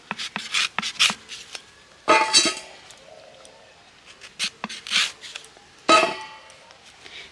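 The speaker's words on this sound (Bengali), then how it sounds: "তো একদম ছোট্ট ছোট্ট করে কাটবো, যেমন আলু ভাজার জন্য কাটা হয় আলু।" A knife cuts raw mango into small pieces, making a series of sharp, close cutting strokes in uneven bursts with short quiet gaps between them.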